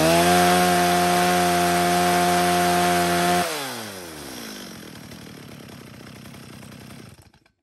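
A STIHL 021 chainsaw runs outdoors at a steady high-revving whine, then the throttle drops and the engine winds down, idling and sputtering more quietly before cutting out, loud and close with no talk.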